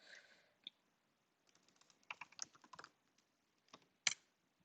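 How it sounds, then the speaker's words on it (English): A computer keyboard is typed on in irregular bursts of quiet keystrokes with pauses between them, close and soft, with a sharper key click near the end. "I don't usually type such long things into curl."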